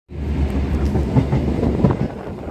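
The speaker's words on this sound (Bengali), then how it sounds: "শিয়ালদা থেকে ট্রেন আমাদের এখন বনগাঁর উদ্দেশ্যে ছুটে চলেছে।" Suburban train running from Sealdah towards Bongaon, heard as a loud, continuous rolling rumble with faint rhythmic clatter from inside the carriage and no voices.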